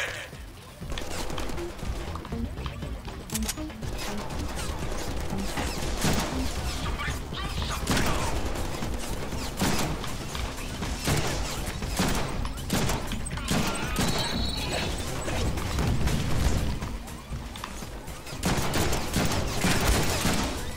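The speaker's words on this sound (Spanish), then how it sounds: "me estaba escuchando más disparos que a mí" Gunfire in the Deadpool video game: repeated bursts and volleys of shots spread across a chaotic combat scene, mixed with game sounds and occasional speech.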